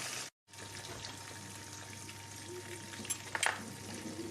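Sea bream fillets frying skin side down in a pan, a steady soft sizzle at low level, briefly cut near the start, with a few faint crackles later.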